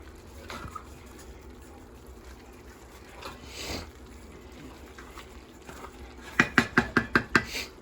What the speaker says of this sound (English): And stir it up, mix it all together.